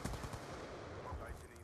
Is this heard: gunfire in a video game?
yes